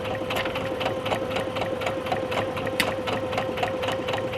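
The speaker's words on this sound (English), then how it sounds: "as we're sewing that around, just making sure that my garment's sitting nice and flat, following that curve" Sewing machine running steadily as it stitches a facing around the curved neckline of a cami top, a continuous close mechanical whir with a sharp stitching pulse and faint rhythmic clicks throughout.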